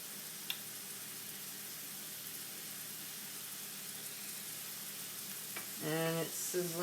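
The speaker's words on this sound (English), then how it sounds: "And it's sizzling, sizzling." Onions frying in a hot pan give a steady, close hiss of sizzling that runs throughout, and a voice speaks briefly near the end.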